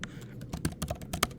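Typing on a computer keyboard, a quick irregular burst of close, sharp key clicks with no talking.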